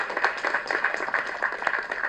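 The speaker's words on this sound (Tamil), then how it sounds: "தயவு செஞ்சு ஒரு கைத்தட்டல் கொடுங்க" Audience applause at a marriage announcement event: steady, dense clapping from many hands at a moderate distance, continuous throughout with no voices on top.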